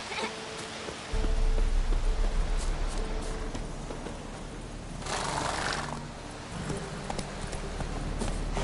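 Roach, the horse in The Witcher 3: Wild Hunt, gallops in a steady clip-clop of hooves that starts abruptly after a second and continues under a rushing, rain-like wash of game ambience.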